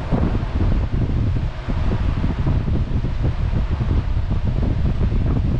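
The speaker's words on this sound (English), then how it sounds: "I turn the fan up to position 2, 12 inches off the face of the fan." A Sealey HVD16 16-inch high velocity drum fan running at its second speed setting, heard close up as a loud, steady rushing roar of air that fills the whole clip.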